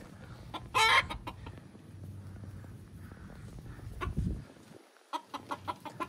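Chicken on a farm clucks in short bursts, with one sharp loud squawk early on and a run of rhythmic clucks near the end, close to the listener.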